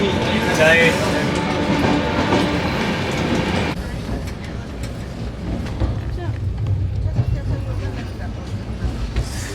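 A train runs on, heard from inside an air-conditioned coach: a steady low rumble with faint rhythmic clatter, loud at first and then slightly muffled, while people talk nearby.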